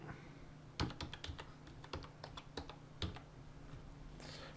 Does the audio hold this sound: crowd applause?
no